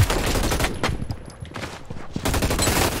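Rapid bursts of automatic gunfire from the futuristic battle royale shooter Hyper Scape, loud and close, with dense fusillades at the start and end around a brief lull.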